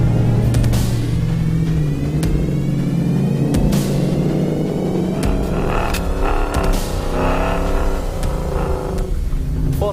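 A 600-hp supercharged Roush F-150 pickup driving over sand dunes gives a steady, close engine rumble and throbbing drone, with sharp knocks and rattles breaking in now and then.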